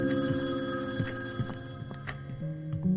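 A telephone rings in the horror video game Crimson Mansion, a steady electronic tone with repeated pulsing bursts over low droning background music, with no talking.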